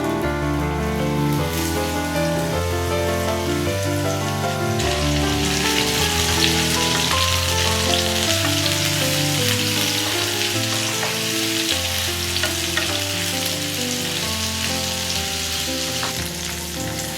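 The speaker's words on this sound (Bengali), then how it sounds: "চলো এটা ভাজা হতে থাকে একটু" Pumpkin pieces fry in hot oil, a continuous crackling sizzle that swells noticeably louder partway through and then stays dense and steady, with a low tonal hum beneath.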